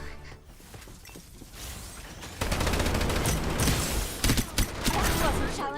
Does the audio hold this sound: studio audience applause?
no